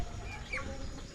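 Chickens on a farm give a soft, distant cluck or two over steady low outdoor background noise.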